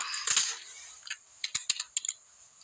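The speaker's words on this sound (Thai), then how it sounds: "ผมจะพิมพ์คำว่า tree นะ" Keys clacking on a computer keyboard, a dense burst of strokes followed by several separate crisp taps, close and fairly quiet with no speech.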